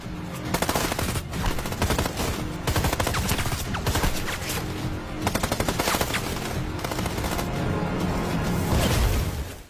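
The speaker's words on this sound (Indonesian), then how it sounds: "Dalam baku tembak yang cukup sengit, Yuan sempat hampir tewas" Intense gunfire in an action film shootout, dense rapid machine-gun bursts and overlapping shots firing almost continuously, loud and close, with short pauses between volleys.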